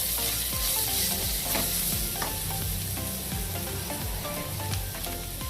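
Chili powder and turmeric are stirred in a hot frying pan, with a steady loud sizzle and repeated scraping strokes of a spoon over the pan, and no voices.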